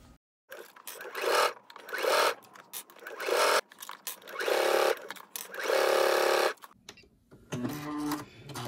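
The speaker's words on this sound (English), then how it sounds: "let's go ahead and take this to the sewing machine" A sewing machine top-stitches tape onto a garment in a series of short, fairly loud runs separated by brief pauses, with a little handling noise at the end.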